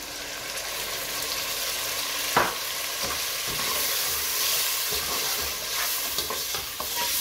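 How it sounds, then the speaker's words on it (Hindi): Lamb and yogurt frying in a pot while being stirred, a steady sizzle with occasional scraping clicks of the spoon, close and continuous, no voices. "अब बस इसको जल्दी जल्दी एक दो मिनट भून के"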